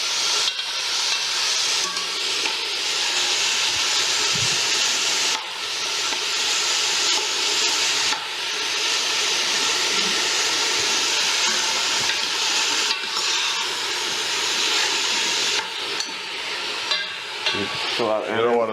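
Vegetables with tomato paste, carrots and potatoes sautéing in a pan, a steady, loud sizzle and hiss with occasional stirring scrapes that carries through without a break, close up.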